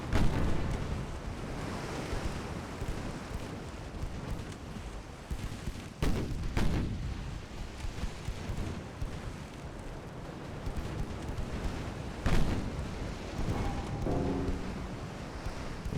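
Naval guns fire repeatedly in a 1905-era warship battle video game, with sharp booming secondary-gun blasts over a constant roar of wind and sea. The shots come at irregular intervals, and a few stand out louder.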